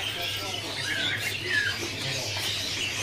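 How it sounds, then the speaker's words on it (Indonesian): A male teledekan laut bird calls from a cage at a bird-selling kiosk, a couple of faint squawks rising from a steady hum of market noise, with no clear talk. "Di kios ini ready burung teledekan laut"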